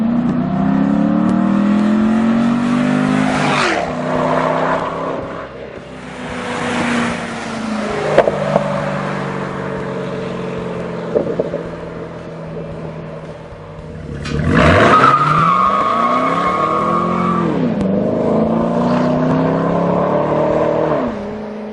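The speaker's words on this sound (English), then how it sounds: "Both an acceleration and deceleration pass" A 2011 Chevrolet Camaro convertible makes a revving pass, its engine climbing in pitch as it accelerates, easing off, then surging loudly again before winding down. The engine is heard alone without voices.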